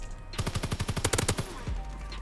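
Rapid automatic gunfire from a DLC weapon in the video game Call of Duty WW2, a loud burst of about a dozen quick evenly spaced shots, then a final shot and a short tail.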